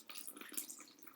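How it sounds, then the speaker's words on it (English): Water poured into a hydroponic bucket for growing tomatoes, a brief continuous splashing and gurgling flow heard close up and fairly quiet, with no talking. "there the water flows in"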